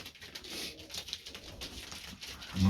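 Pigeons coo softly in a loft, low murmuring calls repeating under faint rustling and background noise, moderately close but not loud.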